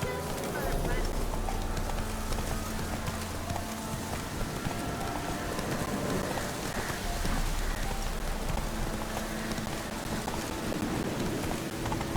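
Horse hooves clip-clopping at a run in The Witcher 3, a steady rhythmic beat under rain-like hiss and game ambience, with a voice speaking over it.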